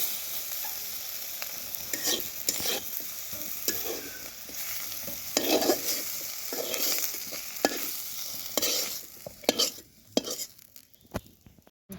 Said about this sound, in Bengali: বেগুনগুলো আমার হালকা ভাজা হয়ে গেছে। এখন এটাকে আমি এখন নামায় নিব।